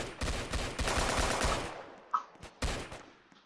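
Rapid automatic gunfire from the Annihilator weapon in the Roblox game Zombie Attack, a dense burst of shots for about a second and a half, then a short pause and a few more clipped shots and a small metallic click.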